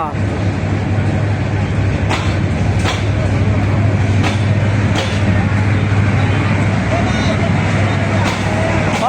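A crowded train at a station, with a continuous loud rumble of the carriages and periodic sharp clanks, heard close and filling the whole scene.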